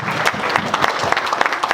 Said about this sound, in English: I wanted some applause for that one.